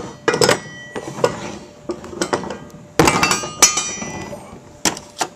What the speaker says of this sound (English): you put these washers in place